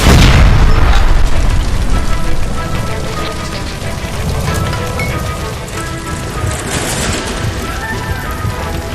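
A gas line explodes beside a stove in the LA Noire arson case at Nicholson Electroplating, opening with a loud, deep boom that decays into a sustained roaring, crackling rumble of fire and debris.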